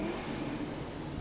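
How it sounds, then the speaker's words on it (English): Mustang cars rev their engines while passing in an Independence Day parade, a steady near rumble of engine noise filling the whole moment without pause. "The engines revving."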